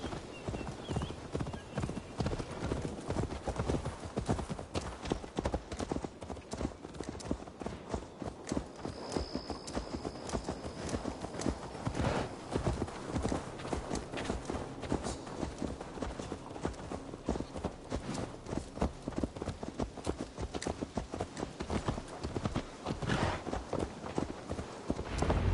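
Horse hooves clip-clop steadily in a video game, a continuous rhythmic patter of walking footfalls, close and clear. A brief neigh cuts in partway through.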